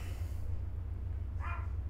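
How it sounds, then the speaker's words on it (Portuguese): A small dog lets out a single short, sharp bark during fireworks, heard briefly and faintly over a steady low background hum. "Meu cachorrinho começou a latir por causa dos fogos"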